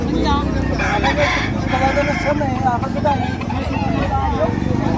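A rooster crows over a busy background of voices and outdoor noise at a chicken market in Padre Garcia, Batangas, its call rising clearly above the steady murmur.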